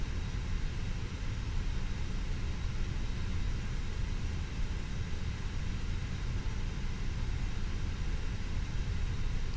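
An Air France Fenix A320 in a flight simulator taxis with a steady, even jet engine rumble and broadband hiss that stays unchanged throughout, with no talking.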